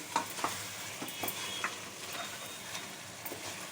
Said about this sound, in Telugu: నిమ్మకాయ, కారం, మసాలా అన్నీ వేసుకున్న తర్వాత ఒకసారి కలుపుకోవాలి.